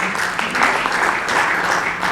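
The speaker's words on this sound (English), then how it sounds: "I think we deserve a round of applause." An audience at an anti-corruption agencies conference claps in a sustained burst of applause, many hands together, steady and moderately loud.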